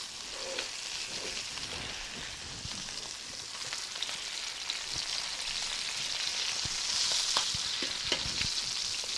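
Continuous loud sizzling of porchetta searing in a pan, with scattered pops and spatters building slightly toward the end; no voices.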